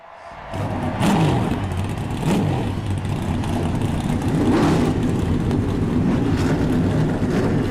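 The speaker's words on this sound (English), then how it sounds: "drivers, start your engines" Race car engines in the iRacing game fire up at Charlotte for an eNASCAR Coca-Cola iRacing Series round, a loud roar swelling after a quiet start with several sharp revving rises over a dense engine drone.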